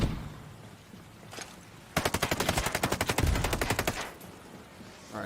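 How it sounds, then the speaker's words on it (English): Rapid gunfire in a loot shooter video game, a sniper firing in a fast rhythmic burst of about two seconds after a few scattered shots, loud and close, with no talk over it. "He saw me. And he's shooting at me."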